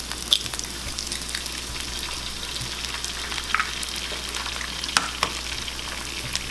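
Eggs sizzling steadily in a hot pan for seblak, a continuous crackling hiss with occasional sharp pops and light utensil scrapes, close and even, no voices.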